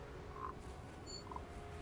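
Toads croaking in the video game Hogwarts Legacy, two or three short faint croaks spaced apart over a quiet ambient background.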